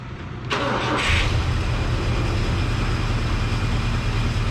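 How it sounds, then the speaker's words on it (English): An old U-Haul truck engine cranks briefly after a chilly night and catches, then settles into a steady, rumbling idle that continues loud and close to the end. "let's see how she fires up after sitting a chilly night"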